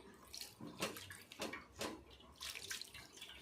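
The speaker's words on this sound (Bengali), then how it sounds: "এবার আমি নর্মাল জল দিয়ে ভালোভাবে ধুয়ে নেব" Plain water runs and splashes over freshly curdled chhena, cut with vinegar, being rinsed in a few uneven surges and pours at close range, with no talking.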